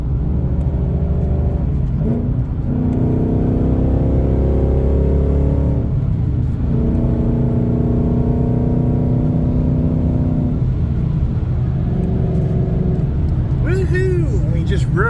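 A 2024 Ford Mustang GT V8 with a new H-pipe and Roush exhaust, a loud close engine drone that rises and falls through several revs and gear changes, with a voice whooping briefly near the end.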